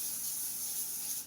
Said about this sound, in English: to simply spray down the baking sheet.